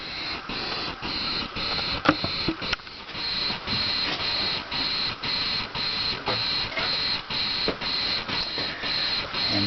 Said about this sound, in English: that is the DC-to-DC converter making its funky noises that it does